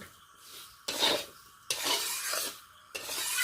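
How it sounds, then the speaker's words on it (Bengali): Dry-roasted semolina is stirred with vegetables in a pan, heard as three distinct scraping strokes, each beginning with a sharp onset and then settling into a gritty, sustained rasp, close and fairly loud with no voice. "সবজিগুলোর সাথে ড্রাই রোস্ট করা সুজিটা ভালো করে মিশিয়ে নিচ্ছি।"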